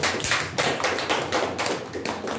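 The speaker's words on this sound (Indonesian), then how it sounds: "Tepuk tangan untuk kelompok 1." A group of teachers claps in a rhythmic run of fairly soft, quick hand claps during a teacher-training session, steady and unbroken with no talking.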